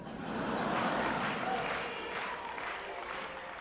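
Partisan crowd at a Conservative political rally applauding steadily, a dense wash of clapping and cheering that swells early and then holds at a slightly lower level throughout.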